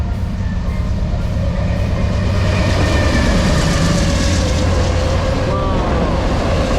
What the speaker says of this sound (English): coming at you, that is a train